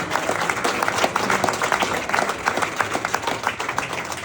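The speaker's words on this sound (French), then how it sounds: "Applaudissements pour Sondre Aga." Crowd applause for a rider being introduced at an indoor motorcycle trial event, lively clapping with distinct individual claps and some crowd noise, moderately loud.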